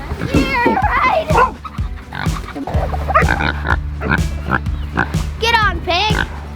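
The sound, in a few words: pig on a farm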